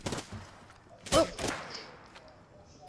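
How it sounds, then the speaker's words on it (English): Gunfire in Apex Legends aimed at the player: a few scattered sharp shots, then a loud cluster of cracks in the middle, with faint clattering and whooshes around them. "They're shooting at me."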